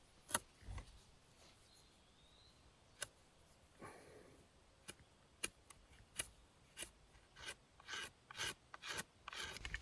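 A coarse stone rasps along a wooden spear shaft stripped of its bark, with irregular scraping and sanding strokes that are faint and sparse at first, then come quicker and louder toward the end, with no one speaking.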